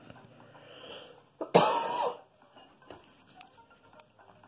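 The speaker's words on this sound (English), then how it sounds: "I hate smokers cough." One harsh, rasping smoker's cough bursts out loudly in a quiet kitchen, preceded by a brief throat catch, with faint household clatter afterward.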